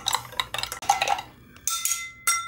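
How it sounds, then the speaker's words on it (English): A metal spoon clinks and scrapes against a glass while stirring chocolate and sugar into 2% milk, several sharp ringing taps in uneven bursts, close and clear with no talking. "Stir that up."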